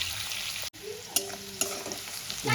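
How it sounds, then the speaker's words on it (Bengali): Onions frying in a pan until brown for a rohu fish curry, with a soft continuous sizzle and a few sharp scrapes of a stirring spatula, no voices. "এবার আমি পেঁয়াজটা বাদামি করে ভেজে নেব"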